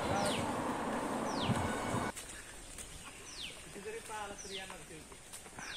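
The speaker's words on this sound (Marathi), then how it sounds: "हा पक्ष्यांचा किलबिलाट खूप सुंदर आहे." Birds chirp in a natural setting near Hatalidevi Temple in Osmanabad, giving a few short, sharp calls spread across several seconds, with a low background rumble at first and then quieter surroundings and a faint voice.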